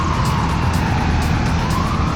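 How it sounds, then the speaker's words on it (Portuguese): An ambulance siren wails continuously and loudly nearby, with a steady cycling tone over road noise and no talking. "Desculpa, ambulância,"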